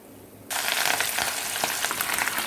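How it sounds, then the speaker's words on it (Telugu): Fish pieces with bones dropped into hot oil for fish pickle, a quiet hum that bursts into a loud, dense, close sizzle and keeps crackling steadily. "మిగిలిన ముక్కలు కూడా వేసి వేయించేసుకుంటున్నాను"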